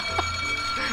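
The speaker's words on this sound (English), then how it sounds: "poor alarm clock." An alarm clock ringing in the video game Tearstone 2, a steady electronic tone with a faint buzz underneath, short and fairly loud, with no talking.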